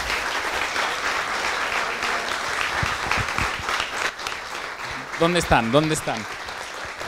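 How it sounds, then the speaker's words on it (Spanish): Audience applause for an organization team at a gathering, a steady wash of clapping with a person calling out loudly near the end. "aquí adelante por favor, para que ustedes reciban el aplauso que merecen"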